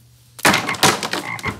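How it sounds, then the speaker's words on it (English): Frogs croak in a sudden loud, close burst after a brief quiet start, rasping calls overlapping in quick uneven pulses. "God is gonna send frogs."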